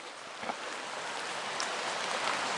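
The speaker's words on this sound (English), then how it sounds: "started raining again too" Steady, dense rain patters on surfaces nearby, a continuous hiss with occasional louder drops and no talking.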